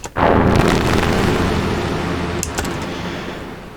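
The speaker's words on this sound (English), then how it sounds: "playing with the expression becomes this basic fake explosion" A sharp synthetic blast from a Roli keyboard patch hits at once, then a dense rumbling roar slowly decays over several seconds with a faint crackle near the end.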